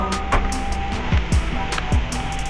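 A large electric fan runs at a Windmill mall spot, giving a steady motor hum broken by a few soft, repeated thumps.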